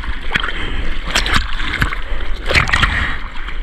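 A surfer paddles a surfboard out through the water with repeated arm strokes, close splashes and sloshing at a steady rhythm over a continuous wash of surf.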